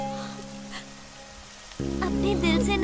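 Rain falls in a scene from a South Indian film dubbed into Hindi, a soft steady hiss that continues after music swells in partway through.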